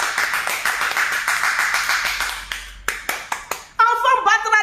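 An audience claps in a string of loud, distinct hand claps that thin out into separate sharp smacks, followed by a singing voice.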